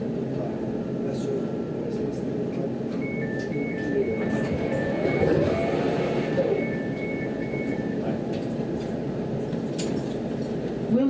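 A London Overground Lioness Line train running between Euston and Watford Junction, a continuous loud interior rumble with a short two-tone electronic whine in the middle and some voices over it.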